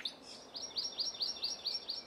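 Hawaiian honeycreepers in a kipuka forest near Kilauea give a steady series of bright, high chirps, about eight evenly spaced calls from one bird, fairly close and clear.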